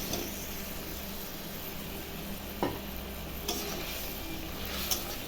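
Potatoes fry in a pan with yogurt, poppy seed, cashew and spices for Bengali aloo dum, a steady close sizzle under a few soft scrapes and taps of a spoon as they are stirred, with no voices.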